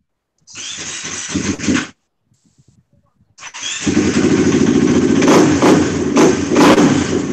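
A 450 motorcycle engine cranks and catches briefly, falls silent, then fires up again and settles into loud, close revving with repeated throttle blips.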